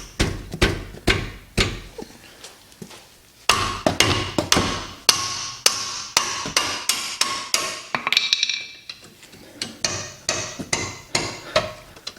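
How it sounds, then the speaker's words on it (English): A hammer strikes a rear brake caliper on a Nissan Juke, Sentra or Versa over and over in a steady rhythm, each blow loud and close, with a few faster runs of metallic whacks. "I'm going to give it a good solid whack to crack those free."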